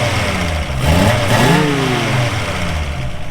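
A 1961 AC Greyhound engine revs while still cold, the pitch climbing and falling in one rising sweep over a steady, loud running note, close by with no talk.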